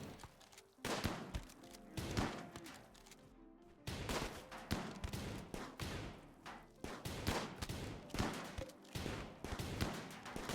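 Bots fire shotguns in the RimWorld video game, a dense barrage of sharp gunshots in rapid irregular bursts with one short pause, loud and close throughout.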